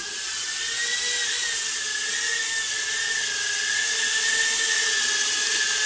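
A JJRC Redpawz mini drone hovers nearby. Its tiny motors give a steady, high-pitched buzzing whine that rises slightly in pitch, alone and continuous throughout.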